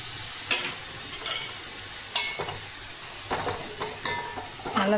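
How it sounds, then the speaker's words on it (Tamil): Egg kothu chapati with chicken gravy gets stirred and scraped in a pan over a soft sizzle, with irregular spatula strokes and a sharper clack near the middle. "நல்லா மிக்ஸ் பண்ணி விட்டுக்கோங்க."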